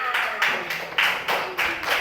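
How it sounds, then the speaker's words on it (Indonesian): A classroom of pupils clapping their hands together in a few loose bursts, fairly close, with speech-like chatter mixed in among the claps. "Oh ya, tepuk tangan"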